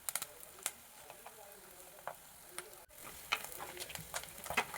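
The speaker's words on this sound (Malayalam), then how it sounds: "ഉള്ളിയൊക്കെ ഒന്ന് നന്നായി വാടുന്നത് വരെ ഒന്ന് വഴറ്റുക." Onions and curry leaves sautéing in a pan for a Kerala fish curry give a faint, light sizzle with scattered crackles and occasional soft stirring taps.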